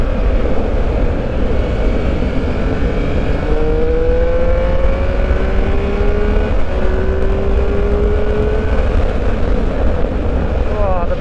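A 2021 Triumph Speed Triple 1200 RS engine roars while being ridden at a track, loud and steady under rushing wind, its pitch climbing as the bike accelerates.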